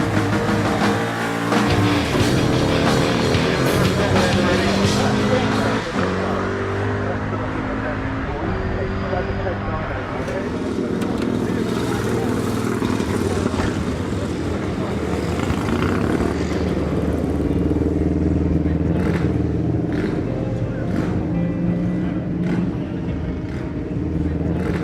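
A race car with a 5.7 litre Chevrolet V8 at the Brighton Speed Trials runs loud and close in a steady, rumbling drone that swells and eases, with people talking over it.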